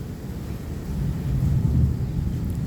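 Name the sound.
rain and thunderstorm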